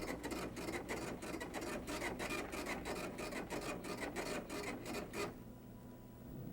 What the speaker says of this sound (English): It's printed on the screen and also printed on the printer.